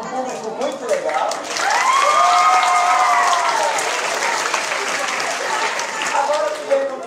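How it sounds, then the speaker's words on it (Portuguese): Audience applause at the close of a theatre performance, rising into full steady clapping with cheering and voices ringing above it, easing off toward the end. "Uma salva de palmas para vocês"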